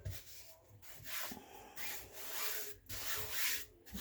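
Paper glued onto a lapbook cover is rubbed smooth by hand to work out wrinkles, giving a steady, close dry rubbing and scraping in several continuous strokes with brief pauses between them.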